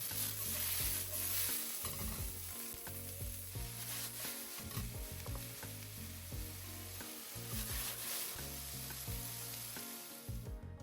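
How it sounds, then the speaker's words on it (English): Onions and peppers stir-frying in hot oil in a wok, a continuous loud sizzle with repeated rhythmic scraping and tossing strokes of a spatula against the pan, no voices. "Add a couple of tablespoons of oil, then throw in the onions and peppers."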